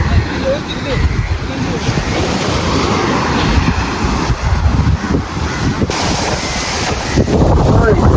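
Steady roar of surf washing onto a beach in Kollam, Kerala, with gusty wind buffeting the microphone throughout.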